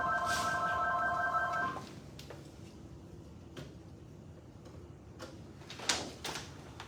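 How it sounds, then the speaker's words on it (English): A telephone in a hair salon rings briefly with a trilling electronic tone, then cuts off, leaving quiet room sounds and a few soft knocks and clicks. "In the salon today and the phone is ringing"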